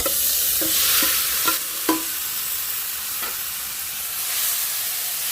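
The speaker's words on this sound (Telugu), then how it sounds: "ఇప్పుడు ఉడకబెట్టుకున్న కూర ఇలాగ వేసుకోవాలి." Boiled amaranth greens are stirred into a hot frying pan for a moong dal curry, with a close hissing sizzle and several distinct spatula scrapes and knocks against the pan, no voices.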